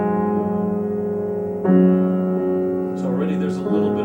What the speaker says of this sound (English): There are two harps, and they play the same two notes, but a beat apart.